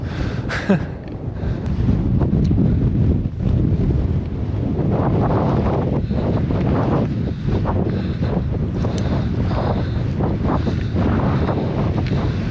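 Steady, loud wind buffeting the microphone on a clifftop on the Yorkshire coast, a continuous roaring rumble with gusty swells and no voices.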